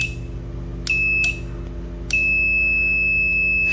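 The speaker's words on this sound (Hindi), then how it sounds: "ये बीप आ गई" A multimeter beeps while testing a 12V 15A relay: two sharp tonal beeps, a short one then a sustained one that continues to the end, over a steady low hum.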